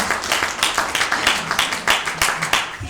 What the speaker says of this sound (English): give my brother here a warm round of applause